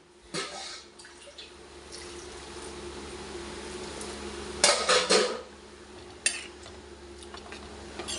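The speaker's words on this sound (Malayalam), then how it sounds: "വെള്ളം ഒഴിക്കുവാണ്" Water poured into a cooking pot for a chickpea breakfast dish splashes in a short loud burst after quieter kitchen rustling, with light clinks of metal cookware nearby.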